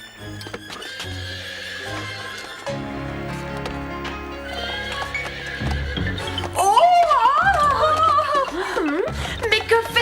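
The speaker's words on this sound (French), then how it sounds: "Mais que fait ce cheval au milieu de la cuisine?" A cartoon horse loose in a kitchen neighs and whinnies loudly while its hooves clop, over music, with a shrill, wavering neigh rising near the end.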